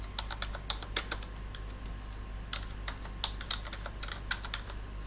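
Close, quiet keystrokes on a computer keyboard come in quick irregular bursts while text is entered in Photoshop, over a low steady hum and with no talking.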